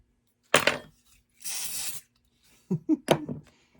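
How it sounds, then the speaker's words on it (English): A short hiss of glue accelerator spray, about half a second, between a few sharp clicks and taps of small tools nearby. "Spray it with the accelerator."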